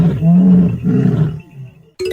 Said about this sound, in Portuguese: Este é o som de um leão marinho.